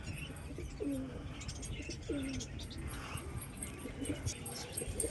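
Pigeons coo in a loft with a few soft, low, rolling calls repeating at intervals, moderately near, over a steady background hum.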